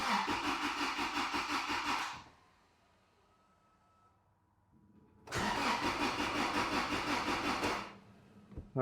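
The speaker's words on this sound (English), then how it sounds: "Let's just try to start it" A Toyota Tacoma 2.7 engine with a crank-no-start fault, loud rapid starter cranking in two long bursts separated by a quiet pause, ending with a brief third crank at close range.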